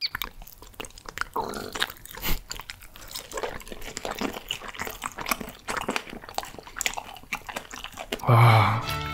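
Strongly fermented skate sashimi dipped in sauce is chewed up close, with wet, crunchy bites and squelching mastication throughout, plus a louder rustle at the end.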